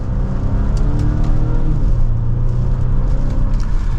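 A 2025 Volvo V60 Cross Country hybrid accelerates hard in manual mode from second gear, its engine note rising and holding loud and steady over road and wind noise inside the cabin.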